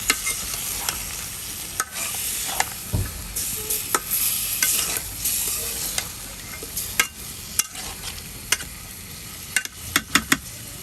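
Fish added to spiced masala with eggplant for a Bengali fish curry sizzles in the pan, while a spoon scrapes and stirs in sharp intermittent knocks over a constant frying hiss.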